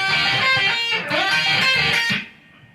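Electric guitar plays the opening section of a solo, a sustained distorted lead with bright bends and a couple of quick note changes, loud and up front before fading out.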